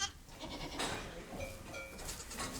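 Newborn baby goats bleating on a farm in the Cévennes, several short, thin, wavering cries in quick succession, close by and fairly clear over a quiet barn background.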